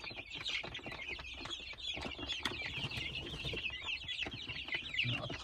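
Kuchinsky breed chicks peep and cheep continuously in a dense, high-pitched chorus, close and busy throughout, with soft rustling underneath.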